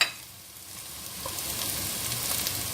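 Garlic frying in a pan as the first step of a homemade Filipino spaghetti sauce, a steady close hiss of sizzling oil that builds slightly over a few seconds, with no talking.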